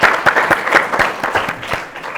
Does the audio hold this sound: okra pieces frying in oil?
no